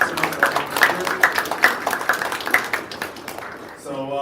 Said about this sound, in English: let's give one last round of applause for ourselves, for the panelists